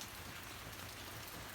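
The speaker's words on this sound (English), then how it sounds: "We've been getting a lot of rain" Steady rain pours over a yard on the island of Hawaii, a dense, even hiss of drops on wet surfaces that holds unbroken throughout at a soft, constant level, with no voices.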